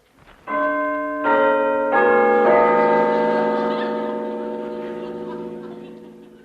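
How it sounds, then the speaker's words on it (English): Old-fashioned pull doorbell rung as a comedy radio sound effect, a series of clear, resonant bell strikes, each ringing on and slowly fading, close and alone. "Pull the bell handle."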